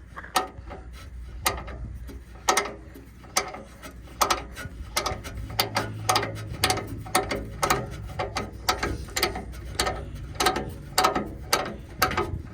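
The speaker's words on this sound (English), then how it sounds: "Definitely going to want ratchet wrenches for this." A ratchet wrench turns a bolt inside the bumper of a Dodge B van while a Curt hitch is fitted, clicking in loud, close, rapid bursts that are repeated again and again with short pauses and no talking.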